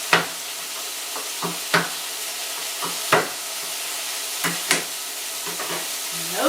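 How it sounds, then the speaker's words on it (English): Four garlic cloves smashed on a board beside a sizzling stockpot for turkey stock, with sharp, irregular knocks every second or so over a constant frying hiss, close and without speech. "We've also got 4 garlic cloves, and we're just going to smash those."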